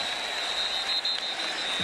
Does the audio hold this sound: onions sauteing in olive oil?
no